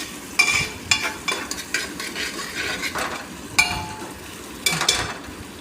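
Potato is stirred into cooked-down chopped tomatoes in a pan, with a spoon scraping and clinking against metal in irregular close strokes over a soft, low simmering sizzle.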